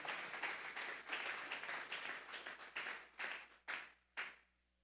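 A church congregation giving applause during a sermon: dense, lively clapping from many hands that thins and fades out into a few last isolated claps, no speech over it.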